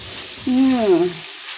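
Beaten eggs go into bitter gourd and beef frying in a pan and are mixed in, giving a steady broad sizzle, with a short rising-and-falling vocal exclamation over it.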